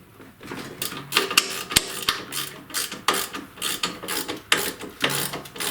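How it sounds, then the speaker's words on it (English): A hand ratchet tightens snowblower handlebar bolts, producing close, rapid rhythmic clicking in repeated short bursts with small pauses between strokes, no speech. "put the handlebar bolt back on and tighten both of them up"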